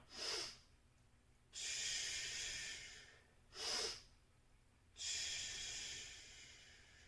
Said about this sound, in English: Inhale, find the pressure, 1 second breath hold, let it go.